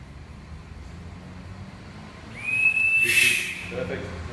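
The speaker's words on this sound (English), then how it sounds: "Then you check your whistle comes in at 50" A high, steady SCBA breathing apparatus low-pressure warning whistle rises sharply and holds for about a second before cutting off, loud over a low background hiss.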